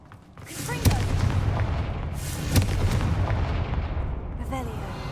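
Confringo spell explosions in Hogwarts Legacy, two sharp booming blasts each followed by a crackling rumble, with a third burst at the end.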